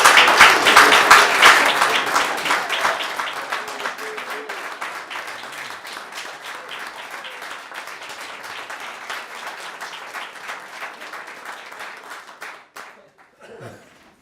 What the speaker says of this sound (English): our clapping and giving you a standing ovation